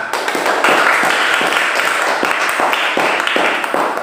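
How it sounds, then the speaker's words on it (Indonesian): Classroom of students applauding, a dense wash of many hands clapping close by, steady and loud for several seconds with faint voices mixed in. "Mari tepuk tangan."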